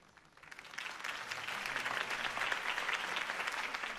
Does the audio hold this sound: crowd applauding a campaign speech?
yes